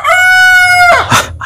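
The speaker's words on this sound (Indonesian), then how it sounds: "Itu ayam sedang bertasbih ya." A rooster crows once, a loud, close, drawn-out cock-a-doodle-doo that ends in a short harsh squawk, heard on its own.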